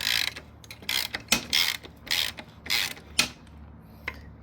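A ratchet wrench cranks the large 17mm front axle nut on a Triumph Scrambler 400X motorcycle wheel, giving close, rapid clicking bursts in short, uneven strokes with brief pauses between them.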